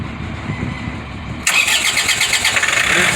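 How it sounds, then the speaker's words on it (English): Engine of a fertilizer loader truck cranks and catches at about the halfway mark, then settles into a loud, steady rumbling idle close to the listener after a quiet stretch of background hum. "This is how you turn on the loader truck."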